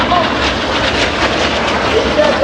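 Display aircraft flying low at the Ayr AirShow 2023, a steady broadband engine roar sustained throughout, loud and fairly close, with a public-address commentary voice running over it.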